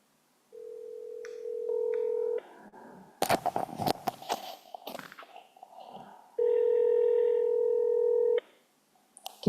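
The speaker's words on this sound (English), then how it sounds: "Can you hear the phone ring?" Ringback tone on a phone call to a Member of Parliament's constituency office: two long steady rings with a burst of clicks and noise between them, fairly close and clear, no talking.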